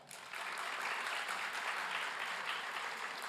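Graduates at a community college commencement ceremony break into a dense, steady round of applause that swells within the first half second and holds evenly, filling a large hall.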